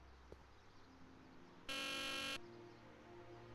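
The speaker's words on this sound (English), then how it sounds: "Use the buzzer near the courthouse gates and see if someone will let you in." A sharp electronic buzzer sounds at the Hill Valley courthouse gate in the Back to the Future adventure game, one steady tone lasting under a second over a quiet low hum.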